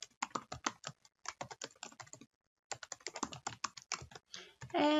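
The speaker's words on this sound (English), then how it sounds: "I'm going to type in the quotation marks there" Rapid clicking keystrokes on a computer keyboard, close and clear in two bursts separated by a short pause, ending with a brief tonal chime.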